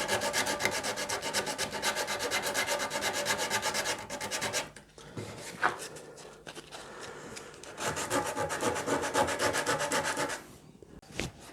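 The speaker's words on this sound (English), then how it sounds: "Just give that a tickle up with a bit of 60 grit." Rough 60 grit sandpaper rubbed back and forth on the wooden headstock of a Rickenbacker 620/12 guitar build, a steady close rasping scratch with a short softer pause midway before resuming.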